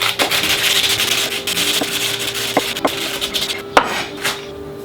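A knife slices leeks thinly on a cutting board, with a series of irregular sharp taps and scrapes against the board over a steady kitchen background hum, with no talking.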